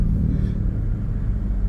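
Low, steady rumble of a Toyota Innova engine pulling in third gear at low revs, heard from inside the car, with no talking.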